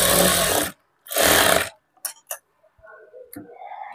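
A sewing machine stitching blouse lining cloth runs in two loud close bursts, then stops, followed by a few short clicks and handling noises.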